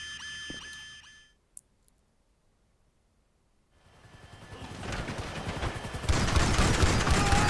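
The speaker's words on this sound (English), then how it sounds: "Shotgun." Shotgun fire in GTA 5 Online: a sharp blast early on, then silence, followed by a loud, dense stretch of rapid gunfire and chaotic action noise that builds toward the end.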